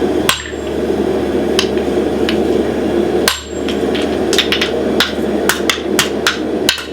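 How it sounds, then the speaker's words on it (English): Hammer blows ring out while forging the round die of a hammer with a cupping tool at a farrier competition, sharp metallic strikes in irregular bursts, some single and some in quick runs, loud and close over a steady background roar. "I'll then put a cupping tool in there and then begin to forge the round die of the hammer"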